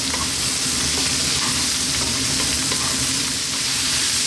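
Steamed cauliflower is stir-fried on high heat with a loud, close, steady sizzle. Stirring and scraping sounds are mixed in, and the frying holds even throughout with no talking.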